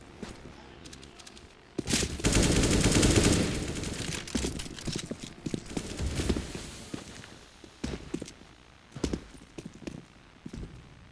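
AK rifle fire in a Counter-Strike match, a loud burst of rapid automatic shots near the start followed by scattered sharp impacts and rattling, with a steady mix of game effects throughout and no talk.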